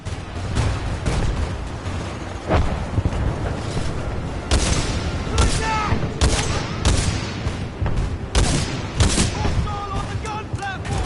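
Heavy gunfire from a gun platform in the Titanfall 2 campaign, with repeated loud bursts and booms over dense battle noise and no talking.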